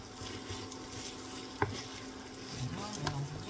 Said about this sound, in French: je rallume parce que j'avais mis 6 minutes pour faire frire mes oignons